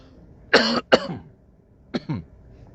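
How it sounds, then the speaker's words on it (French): Two loud coughs close together, then after a pause two quieter, shorter coughs, close to the microphone with no talking. "il y a une toux qui me dérange là"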